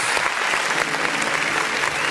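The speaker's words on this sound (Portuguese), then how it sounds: "Vamos aplaudir o nome do Senhor." A church congregation claps at the close of a service, dense sustained applause from many hands filling the room, loud and even throughout.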